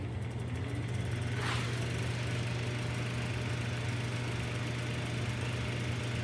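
A vintage Dominion electric fan runs down, a steady low motor hum droning evenly throughout with a faint brief whoosh near the start, no talking.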